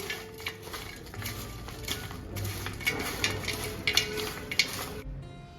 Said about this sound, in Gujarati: તો આ રીતે આપણે બધી જ વસ્તુને એકદમ સરસ રીતે હાથની મદદથી જ મિક્સ કરી લઈશું